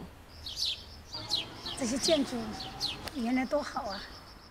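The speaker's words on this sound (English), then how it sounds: "You can also hear the birds singing." Faint bird chirps and tweets flutter through a quiet outdoor background, a few short calls rising and falling.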